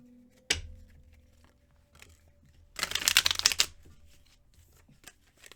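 Tarot cards are handled and pulled from a deck, with a single sharp card snap, then a short burst of riffling and sliding cards, close and clear, without speech.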